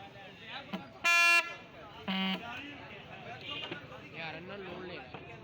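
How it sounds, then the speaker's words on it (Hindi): Large truck and bus horns for sale at a vehicle horn parts market in Lahore's Bilal Ganj give two short, loud, brassy blasts. Shop talk and background chatter continue around them. "ये जो बड़े बड़े हॉर्न ये वाले ट्रक वाले भी जाते हैं, बस वाले हॉर्न"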